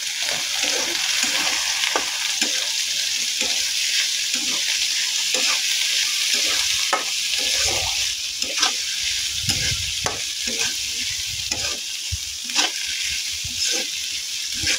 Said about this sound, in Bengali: এবার আমি আমার ধুয়ে রাখা শুটকিগুলা দিয়ে দেবো। দিয়ে এবার নাড়তে থাকবো।